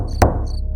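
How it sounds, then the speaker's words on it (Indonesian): A single sharp knock sounds from inside the wall of a room in a rubber-plantation village in Sumatra, while crickets chirp steadily in the background before and after it. "seperti ada yang mengetuk dari dalam dinding."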